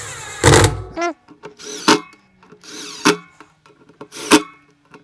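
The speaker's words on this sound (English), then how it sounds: "So I've got my impact driver and I don't want to tighten them up too much" An impact driver fastens the bolts on a disc brake in four short, loud bursts separated by quiet gaps, with faint handling noises in between.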